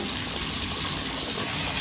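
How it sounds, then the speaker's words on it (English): Water gushes continuously from a bathtub spout that also runs while the shower is diverted, a steady close and loud rushing stream with no talk. "So if you have your water running like this and you pull"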